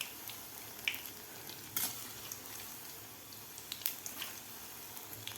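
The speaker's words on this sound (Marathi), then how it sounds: "अशी कुरकुरीत होईपर्यंत आपल्याला ही भजी तळायची आहेत" Chana dal bhaji deep-frying in hot oil, being stirred: a steady, faint crackling sizzle with small scraping clicks and soft watery bubbling throughout, no voices.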